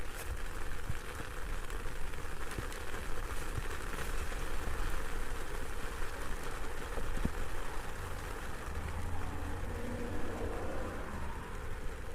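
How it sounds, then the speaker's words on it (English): A steady, dense wash of heavy rain hisses continuously throughout in Hawaii, with no voices and little variation in loudness. "Oh yeah, that's a lot of rain."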